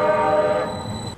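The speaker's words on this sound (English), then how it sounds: "The honking of a streetcar trying to complete its route" A Detroit M-1 Rail streetcar on Woodward Avenue sounds its horn, blocked by a vehicle on the tracks: a loud, sustained, steady tonal blast that holds for about a second and then cuts off, with no talk over it.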